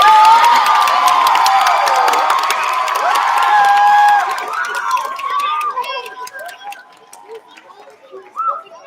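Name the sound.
school assembly audience applauding and cheering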